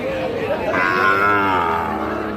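At a busy Raniganj cattle market, a Sahiwal bull or calf lets out a loud, drawn-out moo up close, with market chatter faintly underneath.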